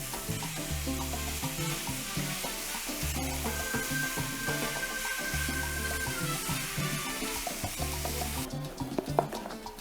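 Lean 5% fat minced beef sizzles and fries steadily in a pan, a loud, continuous crackle broken by the scrape of stirring as it is broken up and browned, with no talking.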